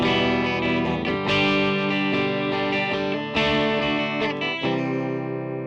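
A Harley Benton ST-JAMster electric guitar with built-in distortion and delay plays loud, saturated chords and notes that ring out with echoing repeats, sustained and dense throughout.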